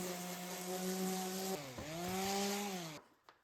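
A power sander works pallet wood smooth, its motor humming with a steady droning pitch that dips and recovers midway, loud and close, before cutting off near the end.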